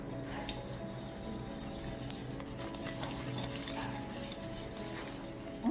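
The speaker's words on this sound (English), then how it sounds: "Okay, we mix this until it turns a lighter color." Chocolate chip cookie dough is stirred by hand in a bowl, giving a steady close wet scraping and stirring sound with faint clinks of utensil on dish, no talking.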